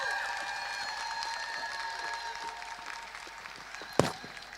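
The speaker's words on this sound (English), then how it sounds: "I really want you to give her another round of applause" A talk audience applauds a speaker after her presentation on PTSD, a distant, even patter of clapping that slowly fades, ending in one sharp thump near the close.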